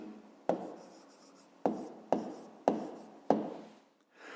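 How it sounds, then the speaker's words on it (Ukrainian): Pen or pencil writing out a maths answer by hand on paper: five distinct scratchy strokes in an uneven rhythm, close and fairly quiet, each fading out before the next, with no talking. "Записуємо тоді відповідь. Пишемо відповідь."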